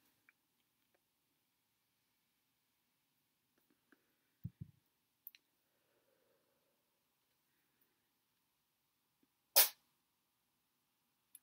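A single short, sharp sneeze bursts out in an otherwise quiet room, preceded by a few faint clicks and soft rustles.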